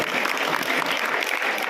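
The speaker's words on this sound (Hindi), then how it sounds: "जोरदार ताली बजाओ इसके लिए" Steady, dense applause from a school audience at a girls' school inauguration ceremony, even and sustained throughout with no voices standing out.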